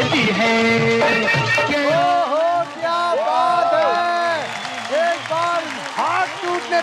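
Audience applause and cheering at a televised singing competition show, a steady crowd roar with clapping that runs continuously under a singing or speaking voice.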